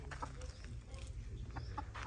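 Bantam chickens, two roosters and a hen, cluck and call in short, scattered bursts over a steady low hum on a village farm, with faint voices in the background.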